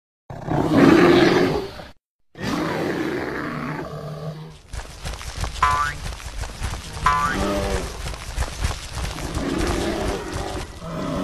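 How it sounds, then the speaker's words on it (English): A cartoon bear lets out loud, drawn-out roars and growls, cut by a brief silence and followed by layered roaring with grunting and rising vocal tones, in a kids' animal cartoon. "Bear."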